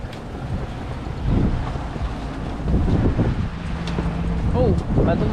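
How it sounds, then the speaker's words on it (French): A motorboat passes near a sailboat on the St. Lawrence River, its low engine rumble rising and falling under heavy wind buffeting and lapping water, with a voice briefly audible. "Oh, bateau moteur."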